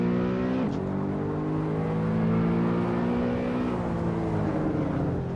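A BMW E92 M3 engine in the Assetto Corsa racing game drones loudly throughout, its pitch dropping sharply at a gear change, climbing again, then shifting once more near the end.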